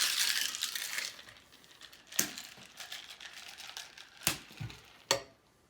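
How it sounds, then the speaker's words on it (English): Ice shaken in a cocktail shaker while making an amaretto sour: a rattling, crunchy flurry at first, then sharp knocks and rattles at irregular intervals, close and moderately loud. "we're going to put some ice in the shaker, and we're going to give it a shake to cool it down"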